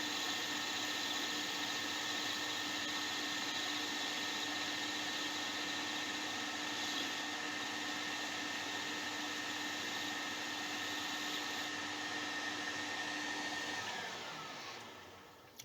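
A Myford lathe cuts steel cleanly with no chatter while making a tapping and drive handle. It gives a steady broadband machining whir with a faint tonal hum throughout, and the sound tapers off near the end.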